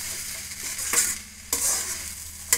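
Crushed garlic and okra (ladies finger) frying in a pan, a steady oily sizzle with two sharp stirring scrapes about half a second apart, close and fairly quiet, no voices.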